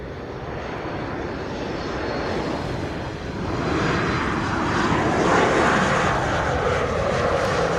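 Aircraft departing runway 07 at Sangster International Airport, Montego Bay, Jamaica, a loud sustained engine roar that swells in intensity partway through.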